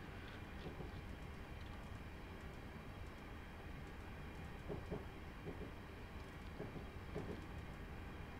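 An East Midlands Class 222 diesel train whizzes past in Train Simulator, heard as a steady, fairly faint rumble and rush of wheels on rail that lasts throughout, with no talking.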